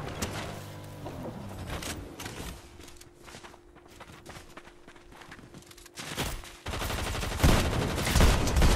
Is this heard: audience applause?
no